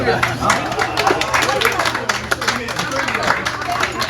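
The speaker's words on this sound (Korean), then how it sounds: "박수 한번 치시죠" A small group of old friends at a 40th reunion gathering claps together indoors, quick scattered hand claps mixed with murmured voices and crowd noise.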